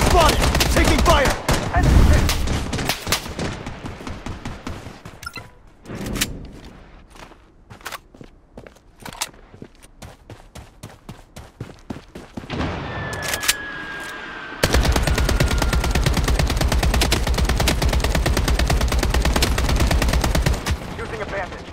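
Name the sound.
gunfire in the video game Bloodstrike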